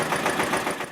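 A motorbike engine sound effect in a children's educational vehicle game, a brief rhythmic revving putter, loud and close with nothing else over it.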